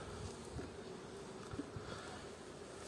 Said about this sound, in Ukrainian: Так, закриваємо вулик.